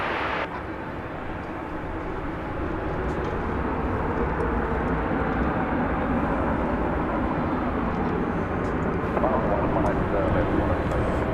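An airliner takes off from runway 18 left at DFW Airport at night. A loud, steady jet roar builds and holds throughout, with voices faintly underneath.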